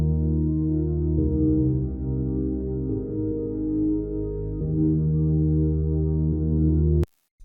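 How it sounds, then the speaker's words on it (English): Warm synth pad from a Serum preset in a future bass track, sustaining chords that change roughly every second or two, smooth and loud throughout, then cutting off abruptly near the end. "I found this really nice warm pad sound in Serum from our Kinetic sound bank."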